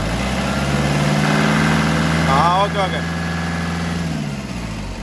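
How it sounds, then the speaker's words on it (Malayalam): A Toyota Innova engine idles steadily and evenly after injector replacement and suspension work, a close, continuous low hum with no knocking, while someone speaks briefly over it. "ഇപ്പം എഞ്ചിൻ്റെ നോയ്സ് പക്ക നോർമൽ നോയ്സ് ആയിട്ടുണ്ട്"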